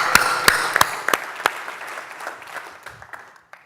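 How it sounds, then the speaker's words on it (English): Audience applause after a startup pitch competition at a conference: a burst of clapping from a room of people with sharp individual claps, fading out over a few seconds. "Let's just give a big round of applause for all of them."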